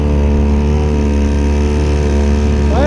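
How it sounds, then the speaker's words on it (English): A 1.2 hp outboard motor on a kayak runs steadily with its exhaust tube muffling the sound, a constant low droning hum with a buzzing harmonic texture, close and unchanging. "the exhaust tube runs up and down, that it's muffling the sound of the motor"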